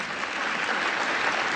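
Sustained applause from the audience at the White House Correspondents' Dinner, a dense, steady wash of clapping filling the whole stretch at an even level with no break.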